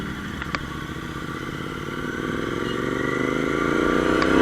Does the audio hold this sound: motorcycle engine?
yes